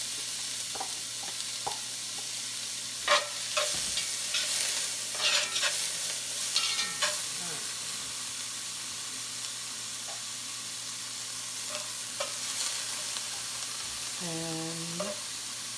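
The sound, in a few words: sautéing celery in olive oil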